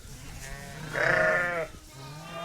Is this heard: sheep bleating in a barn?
yes